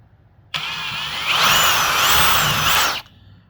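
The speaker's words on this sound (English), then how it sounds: "It's a 1 16th drill bit you use." A power drill with a 1/16-inch bit whirs up close for about two and a half seconds on a Ford F-Series door lock, its pitch rising as it bites in, then stops abruptly.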